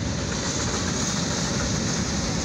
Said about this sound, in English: we got two end DPUs right there at the end of this train